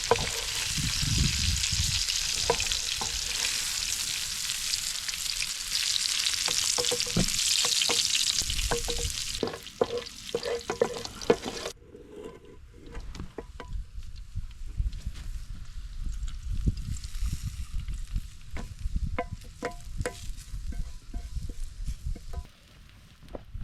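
Pork jowl with onions, bell peppers and celery sizzles loudly in a pan outdoors at a survival campsite, a dense steady hiss with clinks and stirring scrapes, easing to quieter crackling after the middle.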